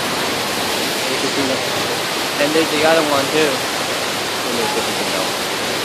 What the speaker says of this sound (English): And look at the waterfall.